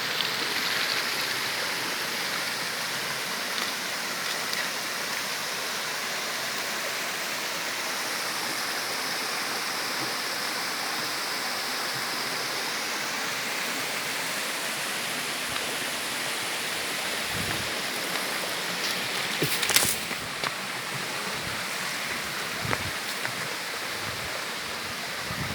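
Steady rushing water from the Melaham river waterfall, a constant broad roar heard up close for the whole stretch, with a few faint knocks and handling noises near the end.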